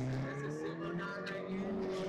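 Cars drifting nonstop at a DC3 drift event, a loud continuous roar of revving engines with rising and falling pitch and some tire squeal, with a distant wash of crowd and crowd noise.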